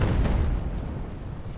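Cannon artillery booms in Ultimate Admiral: Age of Sail at the Battle of Bunker Hill, a heavy low rumble that fades over a second and a half.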